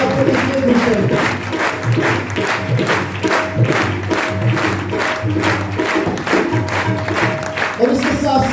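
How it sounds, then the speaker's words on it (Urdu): Congregation clapping at a Catholic Holy Mass, steady and fairly loud, blended with sustained musical tones underneath for the whole stretch. "آپ کی تالیاں بتائیں کہ آپ کو اس لیے خوش کرتے ہیں۔"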